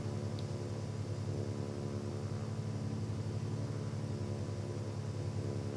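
A Cessna on approach to a runway in a flight simulator game hums with a steady, droning engine tone. It stays even and fairly loud throughout, with no voices.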